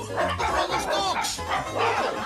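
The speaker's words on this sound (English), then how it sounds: "Hey, those dogs." Several dogs barking in a cartoon scene, a quick run of close yaps and bow-wows over about two seconds, with voices mixed in.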